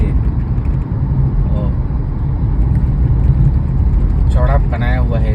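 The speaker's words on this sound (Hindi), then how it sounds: "इस तरीके से गाड़ियाँ फर्राटा भर रही है इसके अंदर।" Cars speeding through a road tunnel in Delhi make a continuous, loud, echoing roar of engines and tyres, and a voice talks briefly near the end.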